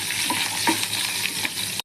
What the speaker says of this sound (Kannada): ಈಗ ಒಗ್ಗರಣೆಗೆ ಸಾಸಿವೆ, ಸ್ವಲ್ಪ ಜೀರಿಗೆ, ಒಂಚೂರು ಇಂಗು ಹಾಕೊಳ್ಳೋಣ.